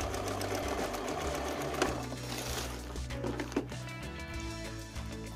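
Sewing machine stitching tarp material in reverse, a steady loud mechanical whir with a few clicks and bumps as the fabric is fed, close and continuous with no talking.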